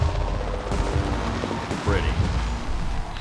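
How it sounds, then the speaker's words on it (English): Fireworks in an Alpha Protocol game cutscene crackle and pop in rapid bursts, mixed with gunfire-like reports and a steady din, while voices speak over them. "The noise from those fireworks should cover the sound of gunfire."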